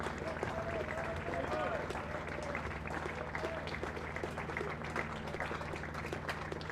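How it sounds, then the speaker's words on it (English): Spectators applauding the final wicket at a County Championship cricket match between Leicestershire and Yorkshire: sustained, distant crowd clapping over a steady hum, with a voice briefly audible in the background. "Let you hear the applause."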